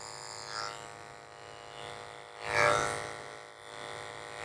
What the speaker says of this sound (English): Just shaving the corners of his eyes out with a 10 blade.